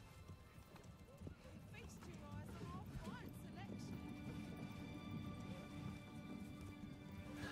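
Hooves of a horse or mule clip-clop steadily in the medieval city-building game Manor Lords. The sound is faint and sits under a voice and soft ambient game sound.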